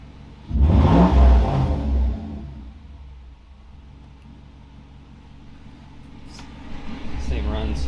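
A Mercedes M119 engine runs with a loud burst of revving early on, then settles into a smooth, low idle rumble, rising slightly again at the end as faint talk joins.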